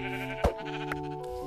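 A single sheep bleats once in Minecraft, a short nasal cry up close, followed by quieter background game music tones.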